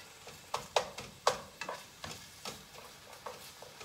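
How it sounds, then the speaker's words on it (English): Beef and onion sizzle in a hot pan for beef lo mein, with a steady frying hiss under repeated close scraping and stirring clacks, no talk. "the beef is heating up, which is great. I'm gonna go ahead and put in the onion."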